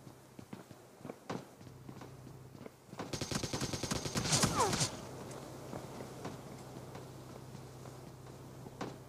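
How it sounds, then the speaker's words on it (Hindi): Bursts of rapid automatic gunfire erupt in a PUBG Mobile Lite match, a dense rattling volley building to a loud peak before fading, with quieter game ambience and scattered footstep-like clicks around it. "यहाँ पर ये बंदा आते के साथ ही फ्री फायर देना शुरू कर देता है।"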